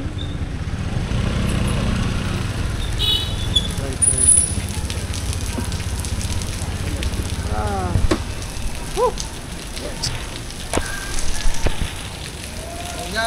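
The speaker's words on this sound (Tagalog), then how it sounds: "Ulan ay patuloy pa rin." Steady rain falls outdoors on a cold, misty day, a continuous close patter and hiss that runs the whole length, with faint voices and small knocks mixed in under it.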